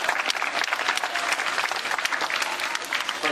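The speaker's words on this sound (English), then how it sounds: "give a round of applause" Outdoor audience applause at the Cincinnati Zoo's Wings of Wonder bird show: a loud, dense, continuous burst of many people clapping close by, with scattered cheers mixed in.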